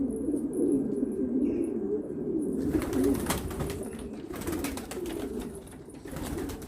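Pigeons coo in low, rolling, repeated calls, close and steady, with faint higher chirps and light rustling around them.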